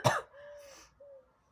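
A person with a stuffy nose and a cough gives one sharp cough up close, then makes a faint wheezy throat sound with a short whistle-like tone.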